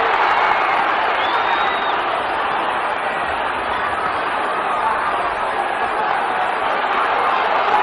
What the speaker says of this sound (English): there's some good stuff now from Watson, and the crowd are really racing too.